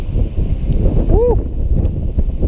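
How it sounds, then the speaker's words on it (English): Steady wind buffets the microphone in a low rumbling roar, with a brief whistling tone rising and falling partway through. "Windy."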